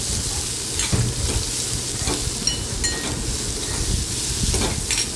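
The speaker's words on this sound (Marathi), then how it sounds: "कांदा आपण व्यवस्थित परतून घेऊया" Finely chopped onion sautés in a pan for a Marathi sandgyachi rassa bhaji, giving a steady, moderately loud sizzle with occasional light stirring scrapes and no talking.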